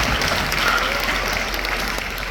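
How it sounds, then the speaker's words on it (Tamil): Sustained audience applause fills a Tamil community music concert in Canada honoring a singer, a dense, steady clapping from a large crowd that carries evenly throughout without any talking. "அவருக்கு நல்ல ஒரு கரகோஷம்."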